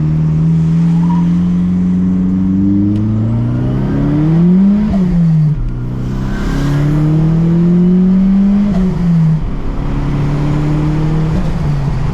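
A built Nissan S15 running high boost on E85, heard from inside the car, accelerates hard to overtake on a highway, its engine droning loudly and rising in pitch through gear changes, with a brief dip between pulls and no talking.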